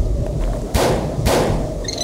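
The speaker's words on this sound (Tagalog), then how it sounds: "Hindi siya natakot sa putok ng baril." Two sharp gunshots fired in a mountain setting, loud bursts of broadband noise about half a second apart over a steady low rumble, with a brief high tinkling afterward.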